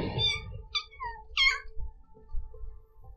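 Kittens meowing in the video game Kitten'd, a few short high mews in quick succession over quiet game background, with a faint low hum continuing after.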